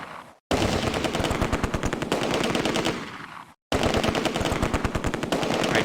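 Machine-gun and rifle fire in the WWII strategy game Close Combat: A Bridge Too Far, two long rapid automatic bursts split by brief silent gaps, loud and dense with no talk.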